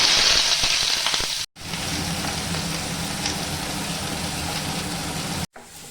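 Chopped onions fry in hot mustard oil in a wok, giving a close, continuous sizzling hiss, cut by two brief silent gaps.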